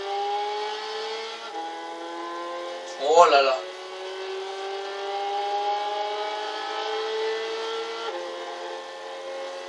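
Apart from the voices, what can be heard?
Peugeot RCZ '10 engine accelerating in the video game Gran Turismo 6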